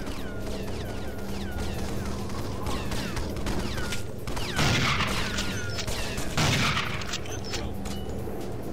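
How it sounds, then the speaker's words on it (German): Gunfire in the James Bond 007 Nightfire video game, repeated sharp shots and heavier booms over a dense, busy game soundscape, with louder bursts around the middle. "Wer schießt denn da auf mich?"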